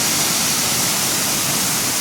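Sol Duck Falls, a waterfall, roars as a loud, steady broadband rush of falling water, with no voices present.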